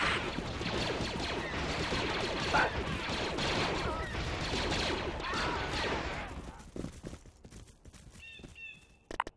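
Dense, rapid blaster fire from a space battle in Star Wars: Empire at War, a continuous barrage of overlapping shots and impacts that thins out and stops near the end, leaving a few faint electronic tones.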